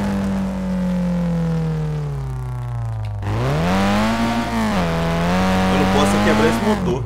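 Fiat 147 converted from carburetor to fuel injection, driven in the SLRR video game: a steady droning engine note that eases down, then rises sharply after a gear change and holds loud and near while people talk over it.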